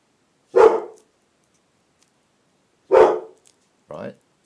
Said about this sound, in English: Lucky's barking, or is it Dave's dog, little lady dog barking?